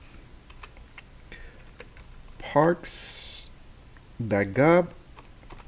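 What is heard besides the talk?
typing on a computer keyboard, pressing backspace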